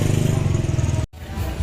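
Motorbikes, including superbikes, moving along a busy Pattaya road, a loud pulsing engine rumble close by that cuts out abruptly and resumes as a rougher drone.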